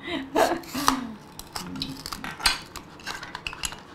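Kitchen knife and cutting set chopping chili peppers, a run of sharp clinking and tapping strokes close by, with scattered softer knocks and brief vocal sounds in between.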